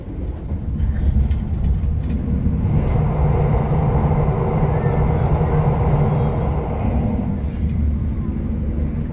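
Passenger train passing through a station, a loud continuous rumble and rolling clatter from start to end that swells in the middle, with faint voices underneath.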